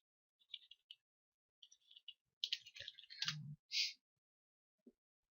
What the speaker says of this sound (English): let me type in Joe Rosenberg